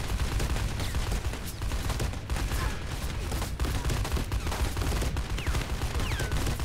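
Rapid, dense gunfire from the multiplayer video game Lead and Gold, loud continuous bursts of shots with scattered impacts filling the whole stretch without pause.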